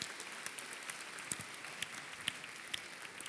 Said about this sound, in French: On peut applaudir et remercier nos 5 intervenants pour ce super débat